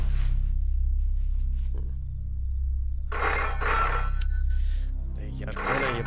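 A telephone rings in a home at night, repeatedly, with blank calls; bursts of ringing come and go over a constant low hum, with short stretches of mixed noise between them.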